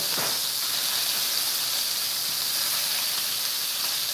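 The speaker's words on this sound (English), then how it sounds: "And these sear really, really well." Lamb chops searing on a gas stove give a loud, steady, close hiss that holds unbroken with no talk over it.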